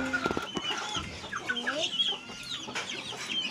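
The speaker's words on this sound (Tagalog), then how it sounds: "Ito, dami-dami niyang manok." Several chickens cluck and chatter close by in a busy, overlapping stream, with a few sharper squawks rising above the flock, in rural North Cotabato, Philippines.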